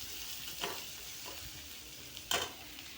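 Onions fry in a tempering for matar poha, a quiet, steady sizzle broken by a few brief scraping stirs, the last one sharper and louder.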